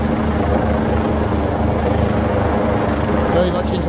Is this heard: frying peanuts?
no